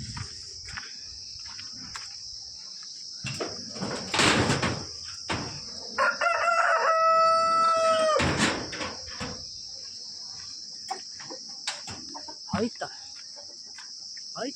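A domestic rooster crows once, loud and close, a long strained call rising above a steady shrill chorus of crickets with scattered clucks around it.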